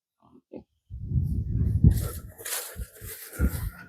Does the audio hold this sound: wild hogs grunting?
yes